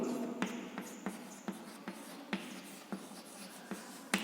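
Chalk or marker strokes on a classroom board during an English grammar lesson, a series of short sharp taps and scratches spaced irregularly, fairly close and moderately quiet, with no talking.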